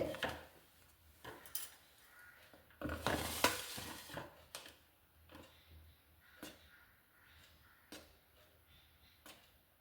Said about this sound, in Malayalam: ഇനി നമുക്കിത് നന്നായി ഒന്ന് തരിച്ചെടുക്കണം അരിപ്പ വെച്ചിട്ടാണ് തരിച്ചെടുക്കുന്നത്